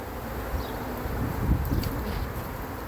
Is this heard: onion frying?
no